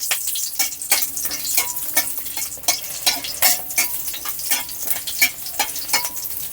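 Nigella seeds and a broken green chili fry in hot oil, giving a steady sizzle broken by repeated sharp scrapes and clinks of a spatula stirring the pan, close up with no talking.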